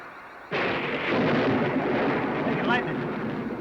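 Thunder from lightning in a TV show: a sudden loud crack swells into a long, heavy rumbling roll that fills the clip, with a brief sharp flare near the end.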